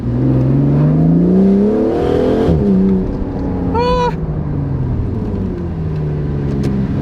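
An Aston Martin DBS Superleggera Volante's V12 revs hard and loud up through the gears, rear-wheel drive, with a rising engine roar and brief gearshift break, steady and close throughout.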